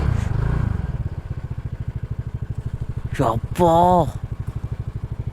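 A motorcycle engine idles close by with a steady pulsing rumble, briefly joined by sharp clattering noises. Someone speaks a short exclamation over it.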